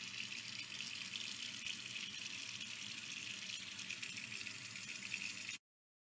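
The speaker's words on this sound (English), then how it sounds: "this is how the faucet sounds like, completely raw and without any modifications" A water faucet runs in a steady, unbroken stream of close, bright splashing hiss, raw and unprocessed, holding level for about five and a half seconds before cutting off abruptly into silence.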